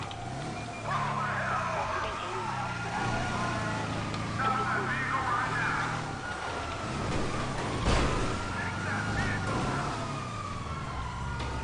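Police car sirens wail in pursuit during a Grand Theft Auto V chase, rising and falling tones over rumbling car engines, fairly loud and continuous, with a voice talking now and then.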